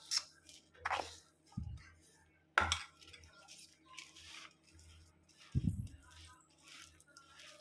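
Vegetable nugget mixture being mixed with bread crumbs in a bowl, giving scattered soft squishy clinks and scrapes of a spoon, close by, with quiet pauses between strokes.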